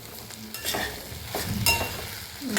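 Okra (bhindi) sabzi sizzles and fries in a pan while a spoon stirs it, a steady close crackle broken by a few louder scraping strokes.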